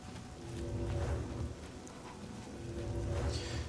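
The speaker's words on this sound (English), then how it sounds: "Oh man, that's some tranquil rain." Steady rain falls in the video game Oblivion, a soft continuous hiss with low rumbling swells that rise and ease, heard alone at low volume.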